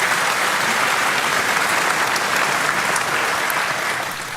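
Loud, sustained applause from a large audience at a Reform UK political rally in Hampshire, dense continuous clapping filling the room for several seconds before easing slightly at the end, with no speech over it.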